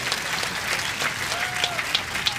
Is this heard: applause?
yes